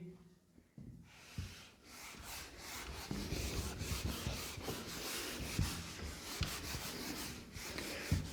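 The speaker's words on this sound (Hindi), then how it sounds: "अभी भी 3 ट्रांजेक्शन बचे और मेरे पास जगह नहीं है, तो मैं फिर से ये रब कर दूंगा।" Writing being rubbed off a classroom board in repeated brisk scrubbing strokes, close and fairly quiet, in an even back-and-forth rhythm with no talking.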